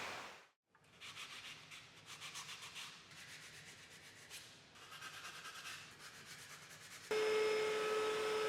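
Scraping and rubbing to clean burrs left by old screws off a surface during a sailboat build, heard as close, uneven abrasive strokes in several bursts after a short pause, then a steadier machine-like hum near the end.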